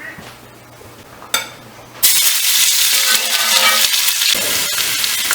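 Onions hit hot bacon grease with a sudden loud sizzle, then keep up a steady, bright frying hiss close by after a quieter opening with a few small clinks.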